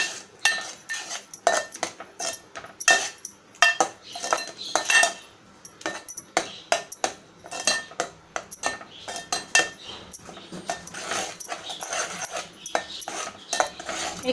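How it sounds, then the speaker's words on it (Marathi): Masala paste is sautéed in oil for a Malvani clam curry, heard as repeated metal clanks and scrapes of a spoon working the pan in an irregular rhythm, with short pauses between bursts. "एक 4-5 मिनिटं आपल्याला छान परतवायचं आहे, तेल सुटेपर्यंत।"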